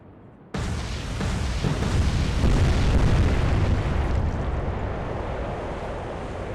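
Naval gunfire from the battleship King George V in the game Atlantic Fleet: a sudden loud boom opens the salvo, then a long, heavy roar rumbles on and slowly fades with no talk.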